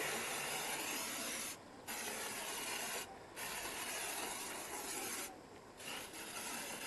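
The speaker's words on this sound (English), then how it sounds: "I'm now just going to do a little waterproof spray" Three short hissing bursts of aerosol waterproof spray onto leather boots, each about a quarter to half second, separated by quiet gaps over a faint background hum.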